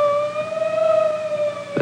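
A 1950s ambulance siren sounds as a steady, loud wailing tone with strong harmonics, held nearly level for a couple of seconds, with a brief noise burst at the end.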